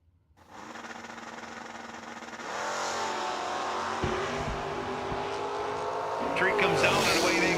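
Drag racing cars launch hard off the starting line at an FTI Performance 350 event, engines rising from a steady loud drone into roaring, climbing revs with sharp bursts, an announcer's voice running over the noise.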